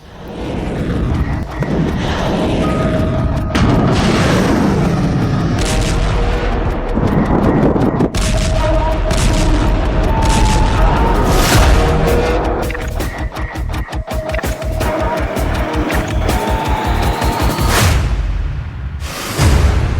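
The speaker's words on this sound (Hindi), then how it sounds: "ईरान ने इराक के इरबिल में मिसाइलों की बौछार कर दी है" Missile explosions from news footage of the attack on Erbil, Iraq: repeated heavy booms and blasts over a constant roar, with tonal siren-like sounds running through and dense rapid bangs toward the end.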